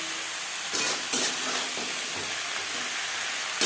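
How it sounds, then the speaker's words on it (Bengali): Onion greens with green chili and tomato hiss and sizzle in a hot pan over a high-to-medium gas flame, a steady close frying noise broken by a few sharp scraping stirs. "কাঁচা লঙ্কা ও টমেটোর সাথে পেঁয়াজ কলি বেশ ভালো করে মিক্স করে দেবো।"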